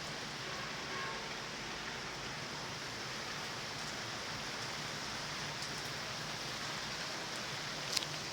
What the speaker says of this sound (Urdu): بارش ہو رہی ہے، بارش برآمدے میں بھی آ رہی ہے